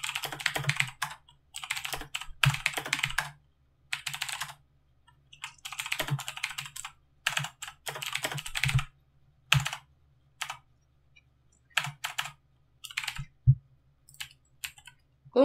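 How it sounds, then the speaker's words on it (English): Steady bursts of typing on a computer keyboard, alone and fairly close, with rapid clicky keystrokes coming in clusters separated by short pauses, over a faint low hum. "What are you typing?"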